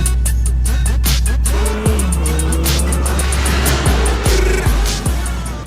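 A Yamaha FJR motorcycle on the road, its engine a loud close drone that rises and drops through several gear shifts over a steady rush of wind.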